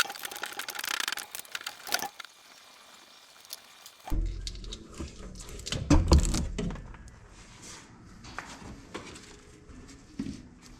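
A ratchet and socket working on the fuel filter of a Ram 2500 pickup, close metallic clicks and clanks in irregular bursts with rustling handling noise between them.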